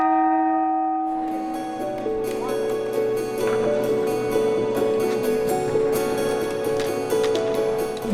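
A church bell rung by pulling its rope sounds loud and close, sustained ringing tones overlapping with a struck clang and irregular clatter of the mechanism, continuing throughout.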